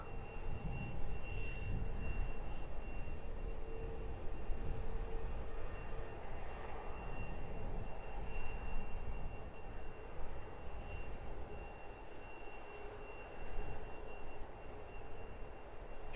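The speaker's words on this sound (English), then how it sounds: "We're looking at Wizz Air flight 2702 off to Debrecen." Wizz Air jet airliner departing Luton Airport at sunrise, a sustained engine roar with a steady whine, heard from a distance and holding at moderate loudness throughout with no voices.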